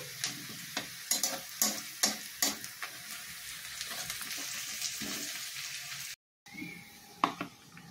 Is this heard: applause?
no